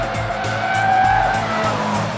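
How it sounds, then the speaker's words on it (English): A Mitsubishi Evolution's tires howl through a racetrack corner, a sustained squealing tone riding over the steady engine drone and rhythmic low thumps, loud and close for about two seconds. "You hear the tires are howling, you know you're flying"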